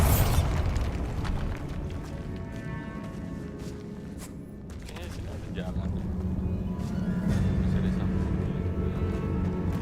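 Bombarda blasting spell explosions in the video game Hogwarts Legacy, heavy booming bursts over a dense, loud game soundscape with music, continuing steadily through the scene.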